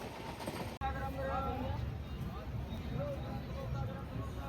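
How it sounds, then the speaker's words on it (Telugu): A passenger train rolls onward after leaving Hyderabad, its steady rumble filling the carriage while faint voices murmur in the background, after a brief cut near the start. "హైదరాబాద్ వదిలి రైలు ముందుకు కదులుతుంది."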